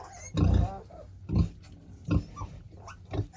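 A farm pig with a cut on its back grunts nearby in a series of loud, low, uneven snorts, several in a row with short gaps between them.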